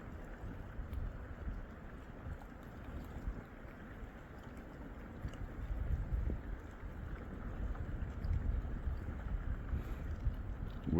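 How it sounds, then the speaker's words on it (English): Canoe grinding slowly through thick chunks of ice on a frozen Great Lake in winter, giving a continuous rough scraping and crunching wash with wind buffeting the microphone and no voices. "The ice is too thick to paddle in, but we're slowly moving."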